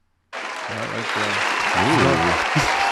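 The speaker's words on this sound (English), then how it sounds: "Let's get an applause there." Loud applause from a studio audience breaks out suddenly and holds steady with cheering and whooping voices rising over the clapping.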